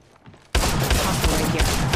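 Sudden heavy gunfire in the mobile video game Apex Legends Mobile, a loud, continuous volley bursting in after a quiet moment and holding steady.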